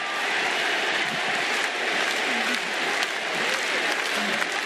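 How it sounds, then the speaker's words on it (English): A large professional wrestling crowd roars and applauds continuously as Kota Ibushi saves Kenny Omega, a dense, loud wall of cheering and clapping that runs the whole time without a break. "Listen to this crowd!"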